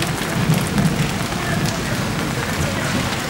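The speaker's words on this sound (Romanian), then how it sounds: "Cum, domnule, să stea pe ploaie?" Heavy rain pours in a backyard courtyard of an election commission headquarters in Moldova, a continuous loud hiss of drops hitting surfaces, with possible low thunder rumbling beneath.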